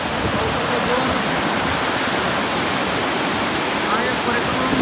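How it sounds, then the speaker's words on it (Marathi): Heavy monsoon rain and swollen floodwater rush past a damaged bridge near farmland, making a dense, loud, continuous roar that does not let up. "इथे हा बघा पावसाचा जोर"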